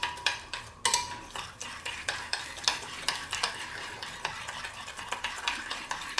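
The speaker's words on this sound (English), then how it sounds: "And then we'll just stir all of this in." Thick sauce for pork egg foo young is stirred in a pan, a spoon scraping and clinking in a quick, regular rhythm close by, over a faint background sizzle.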